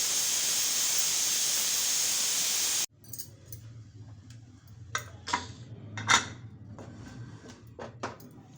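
A pressure cooker cooking a spiced sprouted horse gram gravy lets out a loud, steady rush of hissing steam for about three seconds, then cuts off abruptly, leaving a quiet kitchen with a few light clinks.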